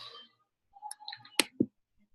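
A few light keyboard keystrokes, soft and close, come as a short irregular cluster of clicks after a brief voice at the start.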